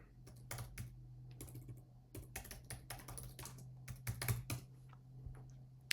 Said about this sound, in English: You can even type in words to what you're looking for.